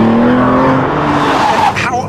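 An Aston Martin V12 Vantage S with a manual gearbox drives hard, its naturally aspirated V12 roaring loudly and rising in pitch before easing off, with brief tire noise near the end.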